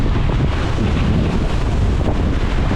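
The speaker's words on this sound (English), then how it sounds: "The wind's just got up." Strong wind at sea while sailing from Mallorca to Portugal, a steady loud roar of wind buffeting the microphone with rushing water beneath, no voices.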